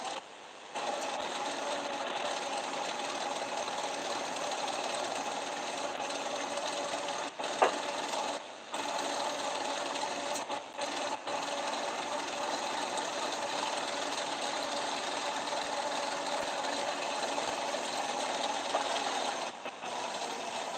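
Fishing line, about 1,500 units' worth, winds from a small spool onto a reel in a steady mechanical whir, broken by a few short pauses and a single click.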